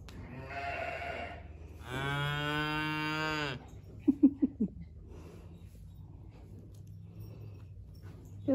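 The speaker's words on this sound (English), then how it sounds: "Billie Jean, I don't think she likes cows" Cows moo on a farm while being let out to play: a short low call, then a long, loud, drawn-out moo, followed by a few brief grunting calls and quieter background stirring.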